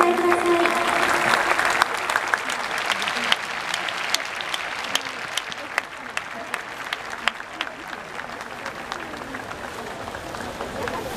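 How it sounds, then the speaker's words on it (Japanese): A large crowd applauds steadily in a baseball stadium, with a broad wash of clapping, scattered sharper claps and faint voices mixed in. "スタンドの皆様、大きな拍手でお迎えください。"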